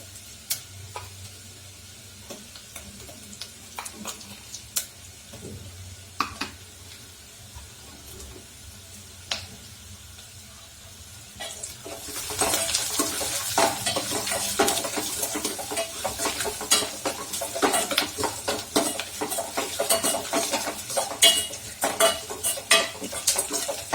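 Onions frying in a pan for coconut rice, quiet at first, then a steady loud sizzle from midway with repeated scraping and clinking as a spoon stirs against the metal pan.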